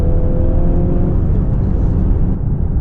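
A 2023 Mercedes-Benz GLC 300 SUV drives along, its engine and road noise forming a loud, dense, steady roar from inside the cabin, with a slight change in tone near the end and no talk.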